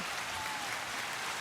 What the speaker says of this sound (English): y'all get a round of applause, of course.